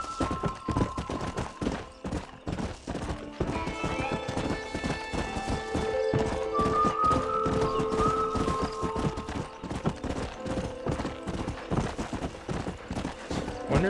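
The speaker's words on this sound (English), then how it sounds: "when you first break a horse, they don't immediately sprint" Horse hooves gallop in Red Dead Redemption, a steady, continuous clip-clop that runs throughout with a whinny partway through, mixed with tonal game sounds.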